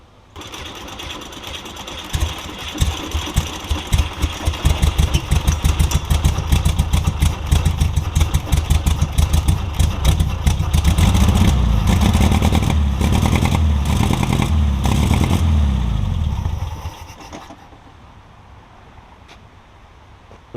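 1973 VW Beetle engine, sitting for 20 years, cranks and catches into a rapid, rattling, sewing-machine-like clatter that runs loud and close for about fifteen seconds before cutting out.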